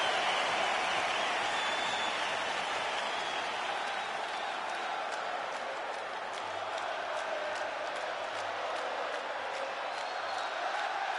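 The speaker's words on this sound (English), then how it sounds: "Conor McGregor ready to make a statement in front of this capacity crowd here tonight." A UFC 5 arena crowd before a lightweight championship fight keeps up a continuous, dense roar of cheering and applause throughout, with scattered sharp claps and whistles and a faint low voice underneath.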